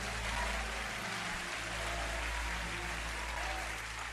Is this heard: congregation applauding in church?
yes